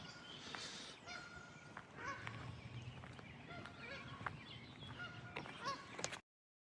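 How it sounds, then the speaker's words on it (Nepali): Ducks or geese by a lake honk and call again and again, loud and near, over a busy bed of bird noise and faint voices. "हेर्नुहोस् न, हाँसहरू कराइरहेछ आफ्नो गुन्जमान"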